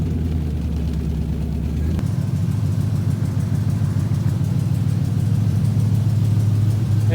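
A car engine that has just been started idles steadily and loudly up close after a brief rough start, a low continuous hum running throughout with no talk.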